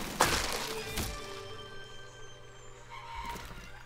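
In the game Besiege, a ballista fires with a sharp crack and a heavy wooden thunk as its bolt strikes a crossbeam, followed by a rattling clatter and a low rumble fading out, with no voices.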